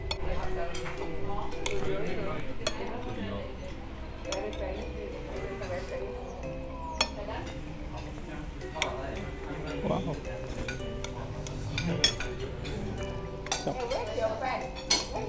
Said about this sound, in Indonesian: cara makan nasi campur ini langsung diaduk semua ya